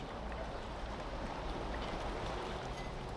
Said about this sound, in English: these are some waves lapping for those waves that are really close up